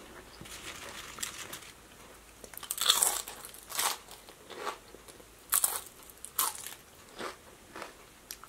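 Homemade salted potato chips being crunched close up, a series of sharp, dry crackling bites and chewing bursts at irregular intervals, fairly quiet with no talking.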